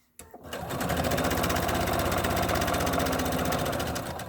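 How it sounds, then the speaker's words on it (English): A sewing machine stitches a zipper bag, running in one steady, fast, continuous whir from just after the start to the end, loud and close. "don't feel like you have to sew this fast"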